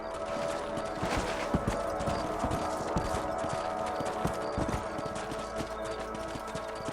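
Horse hooves clip-clop in a steady trotting rhythm while riding in Red Dead Redemption, moderately close over a constant background bed of game ambience and music.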